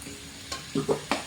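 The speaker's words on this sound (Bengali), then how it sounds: "আলুগুলো কষানো হয়ে গেছে তেলে" Potatoes being stirred in hot oil, with a few short scraping and sizzling bursts over a low, quiet background.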